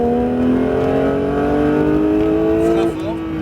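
A Porsche 911 GT3 on the Mireval circuit accelerates with a steady, loud engine note that climbs slightly in pitch before easing off near the end.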